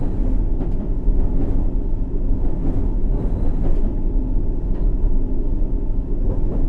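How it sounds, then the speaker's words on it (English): A London Underground District Line subway train in World of Subways 3, heard from outside as a loud, continuous engine drone with rumbling motor whine and rail noise throughout. "The engine sounds crazy on the outside, I know."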